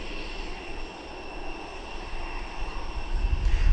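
A steady, broad roar from an aircraft engine at East Midlands Airport holds throughout and grows slightly louder toward the end.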